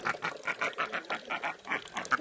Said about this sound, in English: The duck here is waiting